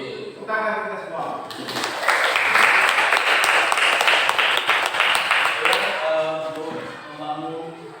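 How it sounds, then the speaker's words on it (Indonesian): Audience applause rising from about two seconds in and holding as a dense, steady clatter of many hands before easing off, with speech heard before and after, at an Indonesian school event on coding and artificial intelligence. "Tepuk tangan kita semua."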